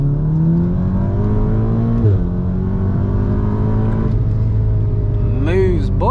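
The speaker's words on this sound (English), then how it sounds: "if you listen to this Golf R now, it's really bassy. It's got that rumble, similar to a Subaru." A tuned 400bhp VW Golf R accelerating, its deep bassy engine rumble rising steadily through the gears with brief shift dips, heard from inside the car under a voice.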